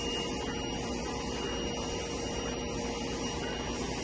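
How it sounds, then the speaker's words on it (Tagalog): A Kuwi DTF printer works through a light print load, producing a steady, even whir and shuffling hiss that stays at constant moderate loudness throughout, with no voices. "Ngayon po may piniprint kami pero light load lang po"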